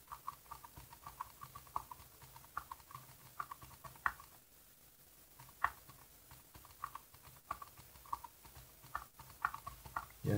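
Fingers type on the small, cramped keyboard of a Psion 3a handheld computer, producing light, close clicking keystrokes in uneven bursts with short pauses, quiet and alone.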